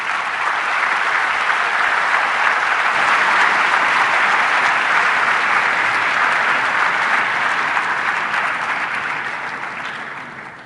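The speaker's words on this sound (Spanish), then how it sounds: "Nuevamente un aplauso muy fuerte para el maestro Jorge Chabat" Sustained, dense applause from a conference audience for Jorge Chabat after his lecture, steady and loud for about ten seconds before fading toward the end, with no voices on top.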